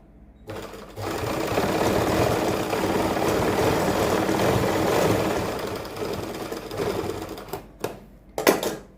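A sewing machine runs in one long, steady burst while stitching a kurti, whirring loudly and evenly for several seconds before stopping, followed by a few short clicks and brief restarts.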